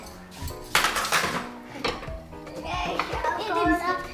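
Cups, cutlery and jam jars clink and clatter as they are set onto a breakfast tray at home, close by, while children talk over the clattering.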